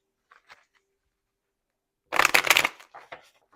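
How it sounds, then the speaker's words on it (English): A deck of tarot cards is riffled and shuffled in one quick close burst, with a few soft taps and card slides before and after. "I take forever to shuffle."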